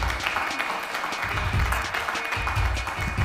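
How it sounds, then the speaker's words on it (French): Applause from an audience welcoming a guest onto the stage at a car-club evening, a steady crackle of many hands under a faint murmur, moderately loud throughout. "je demande que vous applaudissiez bien fort"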